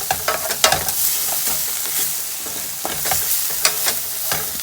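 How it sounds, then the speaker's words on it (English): Loud close sizzling of onions and peppers in a hot pan, with repeated scraping stirs of a utensil breaking through the steady hiss. "I have my onions and my peppers, so I'm just gonna stir them around so that it can get brown"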